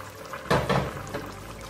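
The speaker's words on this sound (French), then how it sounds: "On rajoute aussi de l'eau." Water poured into a pot of tomato sauce made with peeled tomatoes and tomato paste, a short close splashing gush starting abruptly and fading to a softer trickle within about a second.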